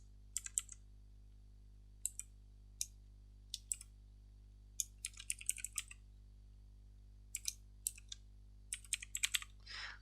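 Data being typed on a computer keyboard: bursts of crisp key clicks in short runs with pauses between, close and fairly quiet over a steady low electrical hum, with no talking.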